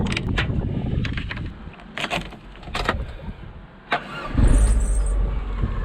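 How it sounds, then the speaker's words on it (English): An MGF 1.8 VVC sports car cranks with a few clicks and clunks, then the engine catches and settles into a loud, steady idle close by. "Let's see if I can get the engine to run."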